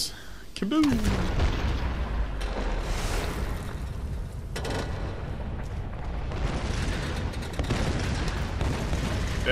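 A loud explosion goes off in the Tomb Raider video game, a sudden boom that settles into a long, dense rumble of debris and fire that fills the whole stretch at steady volume.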